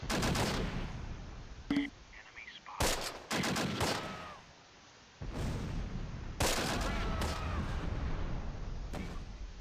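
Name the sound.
artillery barrage in video game Close Combat: Last Stand Arnhem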